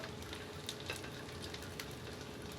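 Regular slices of bread frying in a pan, giving a soft, steady sizzle with faint crackles throughout, fairly quiet and with no voices.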